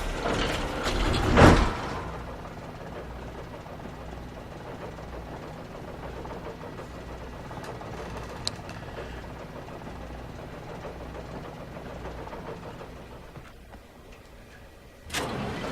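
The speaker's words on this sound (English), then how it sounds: "Another cable car. Just great." Cable car machinery in the video game Alan Wake, a low, steady mechanical rumble with faint ratcheting and clanking that runs throughout, with a louder burst near the start and another at the end.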